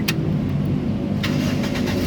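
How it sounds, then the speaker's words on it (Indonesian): A 2005 Toyota Kijang Innova 2.0 V automatic with about 165,000 km starts up, its engine settling into a steady, close mid-range rumble with no one talking. "sekarang baru kita coba nyalakan mobilnya"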